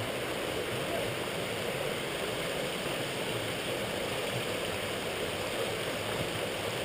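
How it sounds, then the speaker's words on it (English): Mountain river water rushing over rocks in the Brecon Beacons near Pen y Fan, a steady, full, close broadband flow with no pauses, heard alone. "A lovely bit of mountain river water."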